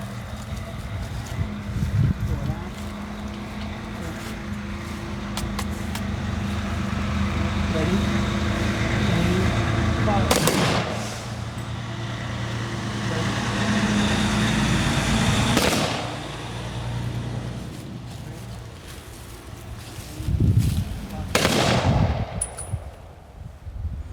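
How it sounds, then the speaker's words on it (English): Rifle salute at an outdoor Veterans Day ceremony: three sharp volleys spaced about five seconds apart, each a loud crack with a short echo, over passing road traffic and a low murmur. "followed by a rifle salute, followed by taps"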